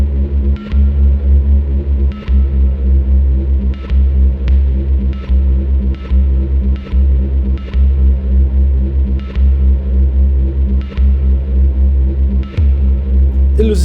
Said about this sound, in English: this is just the Phonogene that you're hearing